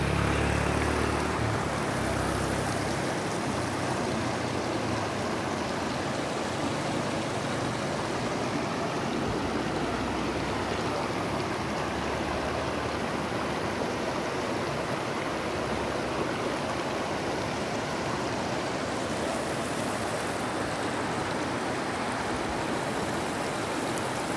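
A mountain spring stream rushes over large rocks, a steady, loud, broadband wash of flowing water that fills the whole stretch without pause and without voices.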